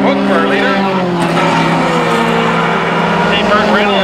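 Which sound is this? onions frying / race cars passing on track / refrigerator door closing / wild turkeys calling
race cars passing on track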